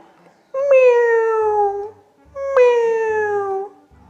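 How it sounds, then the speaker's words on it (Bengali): A domestic cat meows twice, each call long, loud and close with a gently falling tone, with a short quiet gap between the two and no voices around them. "বিড়াল"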